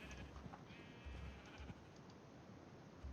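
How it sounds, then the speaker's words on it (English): Sheep bleat in a Minecraft 1.18.1 farm, a few short cries close by, mixed over steady game background noise. "We have some sheep."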